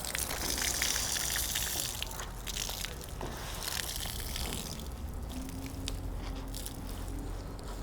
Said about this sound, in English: Now wring it out outside of the bucket.